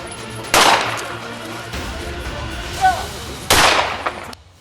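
Gunfire rings out during a police confrontation with a suspect, two sharp loud bangs a few seconds apart with a smaller crack between, amid outdoor background noise.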